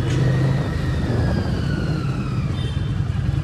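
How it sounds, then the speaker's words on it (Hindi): Harley-Davidson Street 750 motorcycle running with a dB killer fitted in the exhaust: a steady, subdued engine drone with a low rumble, heard continuously and fairly close with no talking. "इसमें डीबी किलर होने के कारण से गाड़ी का आवाज़ और थोड़ा कम हो रहा है"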